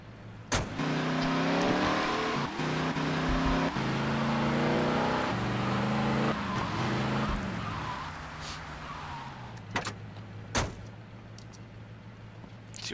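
A stolen car in GTA Vice City pulls away with its engine revving through several gear changes, then settles to a lower hum while sharp thumps and clicks break in near the end.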